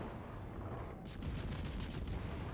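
Gunfire from the video game Edgar, a burst of sharp reports in a quick rapid series over a dull rumbling background, heard alone without talk.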